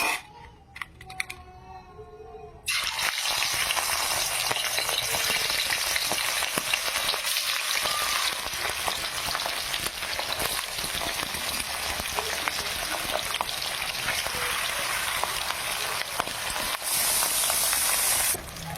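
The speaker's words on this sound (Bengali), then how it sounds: "আমার কড়া গরম হয়ে গেছে তো দেখতেই পারছেন এবার আমি মাছগুলো দিয়ে দেবো" After a quiet opening with a few faint clicks, rohu fish pieces drop into hot oil in a wok and set off a loud, sustained sizzling crackle that keeps going until the end, close and with no voices.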